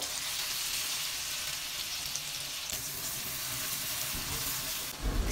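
Blended tomatoes with garlic and onions sauté in hot oil, giving a constant, dense sizzle and crackle that runs through the whole stretch with no voices.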